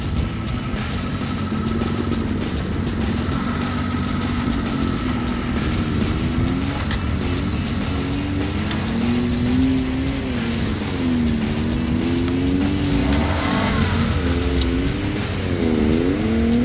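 A Suzuki Jimny engine drones loudly and steadily while the vehicle is driven fast, its pitch rising and falling with the throttle, and a few revving swells come near the end.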